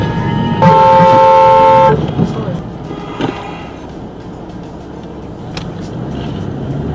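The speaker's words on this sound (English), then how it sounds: "constantly honking the horn only makes it impossible for both parties to calm down" A car horn gives one long, loud, steady blast during a road-rage confrontation, then gives way to rumbling road traffic noise.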